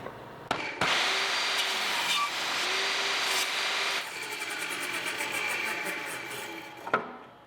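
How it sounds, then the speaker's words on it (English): A 15 amp Vevor job site table saw with a sharp carbide-tooth blade cutting a block of padauk hardwood: a loud, close whine and rasp under load that eases off near the end, with sharp clunks at the start and finish. "We're gonna run this through this 15 amp job site table saw"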